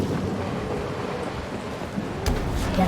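Rain and rumbling thunder in the video game Dying Light form a steady, loud, windy wash throughout, with a sharper burst near the end and no talking.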